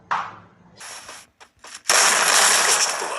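Gunfire in a Free Fire-style 1v1 video game match: bursts of shots, a short volley early on, then a sustained loud barrage of rapid fire to the end, with no talk.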